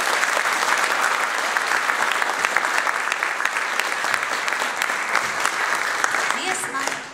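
A concert audience at a children's Christmas choir performance applauds, dense and steady clapping from a full hall that runs throughout and fades slightly at the end.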